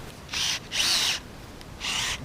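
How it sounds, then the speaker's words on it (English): Three short bursts of a power drill whirring in reverse, injecting compost tea into soil, each under a second, separated by brief pauses, fairly close and moderately loud. "I'm putting the drill in reverse so it forces it down."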